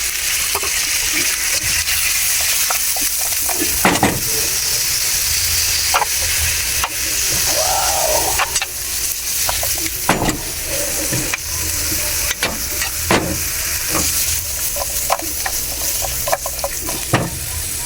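Spinach sizzles steadily in a hot pan while a steak dish is being cooked, with repeated sharp clicks and scrapes of stirring breaking through the continuous frying hiss.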